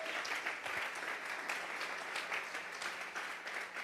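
A church congregation applauds in a dense, continuous wash of clapping heard from some distance, fairly faint and steady throughout with no clear talk.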